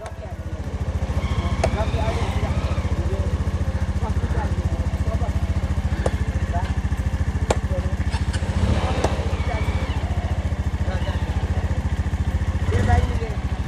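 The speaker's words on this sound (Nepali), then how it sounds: "गाइस बाइक चाहिँ अड्क्यो त्यहाँ होइन" A motorcycle stuck on rocks on a rough trail near a cave in Dhading, its engine idling and throbbing steadily up close, with clattering and voices heard over it.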